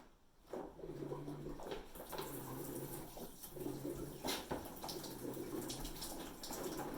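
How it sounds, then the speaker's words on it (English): Water sprays steadily from a pressurized outdoor shower at a cabin, a continuous broadband hiss with gurgling pulses, fairly close and unbroken for several seconds. "Looks like we're going to have a nice shower."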